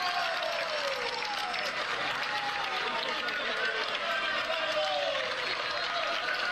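A roadside crowd cheers at a cycling race near Puerto de Bernia, a constant roar of cheering and shouting that holds at one level throughout, under a commentator's voice.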